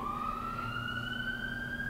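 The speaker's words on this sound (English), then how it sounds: "the person who's driving that ambulance right by as I'm talking to you" An ambulance siren wails in a steady, slowly rising tone as it passes by at some distance, faint but continuous against quiet background hum.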